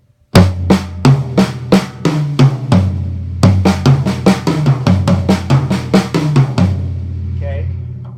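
A drum fill struck entirely at full volume, a fast run of evenly hard hits across drums with sustained low tone beneath, ending in a ringing decay.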